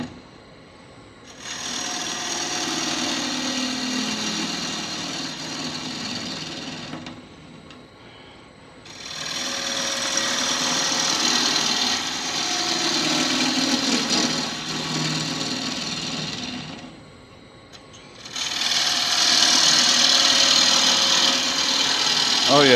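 A woodturning lathe hollows an Irish red oak shamrock dish in three long, loud stretches of steady whirring and scraping, separated by short quieter pauses, heard up close.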